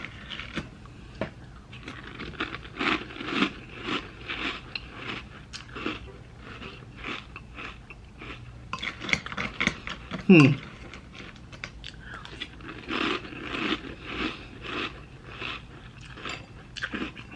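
Crunchy Honey O's cereal chewed close up, a steady run of crisp crunching bites with brief pauses and a few louder chomps partway through.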